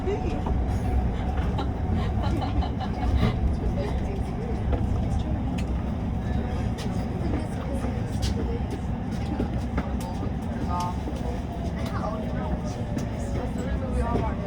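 A passenger train runs northbound toward Waterfall station, with a steady low rumble of wheels and carriage noise from inside the car and faint squeals and rattles over the track.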